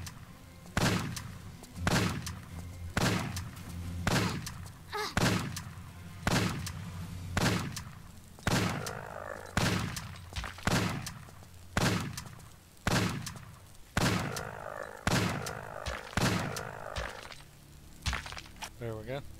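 Repeated gunshots fired at enemies in a Tomb Raider level editor game set in a Luxor temple, sharp evenly spaced cracks roughly every second, loud and steady, with a voice talking over them.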